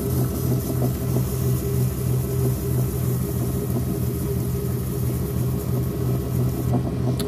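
A pottery wheel motor hums steadily and continuously while a clay bowl is thrown, a loud even drone with a faint rhythmic pulsing throughout.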